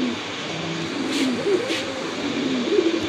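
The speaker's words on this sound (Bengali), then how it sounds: "আরেক জোড়া শার্টিন কবুতর, ব্ল্যাকলেস শার্টিন কবুতর, অনেক বড় সাইজের কবুতর" Blackless satin pigeons, a large-sized fancy breed, give several soft, low coos at close range against a hum of background noise at a bird market.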